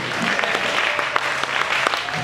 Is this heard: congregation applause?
yes